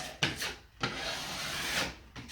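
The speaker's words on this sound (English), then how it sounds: "So we scrape that off." Plaster scraped off a drywall edge, a few rough rasping strokes of a blade on wallboard, close and fairly loud, each drag lasting about half a second to a second with no talk.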